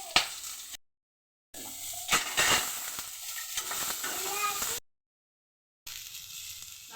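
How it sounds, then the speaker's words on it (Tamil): Green chillies and ginger sautéing in about two spoons of hot oil in a pan, a steady bright sizzle with stirring scrapes, broken by two short silent gaps. "நல்லா வதக்கியாச்சு"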